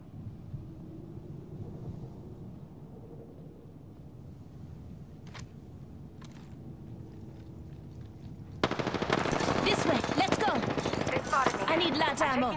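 Gunfire in the Apex Legends video game, quiet background noise with a few isolated sharp cracks, then a loud dense burst of rapid automatic fire filling the last four seconds.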